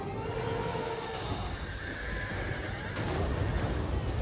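A horse neighs in a strategy video game, a loud whinny over a dense, continuous wash of battle noise and cavalry hoofbeats.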